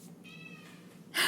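A pet cat lets out a single short meow nearby in a quiet room, followed by a brief burst of noise at the end.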